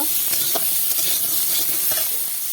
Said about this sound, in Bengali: এগুলোকে ভালো করে ভাজা ভাজা করে নেব